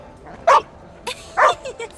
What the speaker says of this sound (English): What a lovely dog!